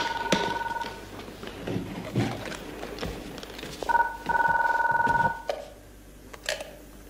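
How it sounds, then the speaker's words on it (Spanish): An old-style telephone rings in two distinct bursts, a steady electronic trill, amid small knocks and movement noises in a quiet room, in the TV series Comisario Rex. "¿Queréis coger el teléfono?"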